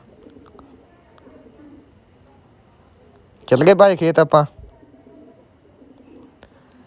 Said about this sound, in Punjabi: ਕਬੂਤਰ ਆਹੇ